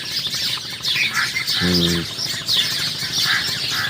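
Busy chorus of small birds chirping and twittering continuously from inside a bamboo tree at dawn after overnight rain, fairly close, with a brief low cooing or rumbling note partway through.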